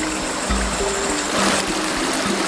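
A river stream flowing through a teak forest gives a continuous, moderately loud rushing and trickling of water, heard nearby and steady, with no talking.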